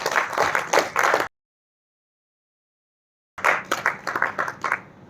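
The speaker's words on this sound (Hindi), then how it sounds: "सो इनके लिए जोरदार ताली मिस्टर ली जूनियर" Audience applause at a business growth seminar, two bursts of dense clapping from a crowd separated by a gap of silence, loud and close.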